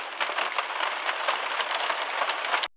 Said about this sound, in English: as the rain continues to pour here